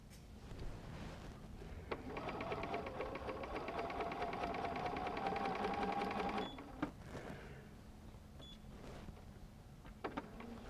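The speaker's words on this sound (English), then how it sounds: "just going to sew all the way around the edges" Sewing machine stitching around the edges of a Christmas stocking, a faint steady whirring hum lasting several seconds, then stopping with a few light clicks and knocks.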